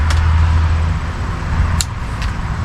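Construction work out in front of a house produces a steady low machine rumble with a couple of brief sharp clanks on top, moderately loud and continuous, with no voices.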